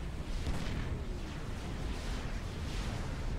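Tactical missile strikes rumble in a Supreme Commander real-time strategy battle, a dense, sustained wash of explosions and booming impacts with no clear gaps, loud and continuous throughout.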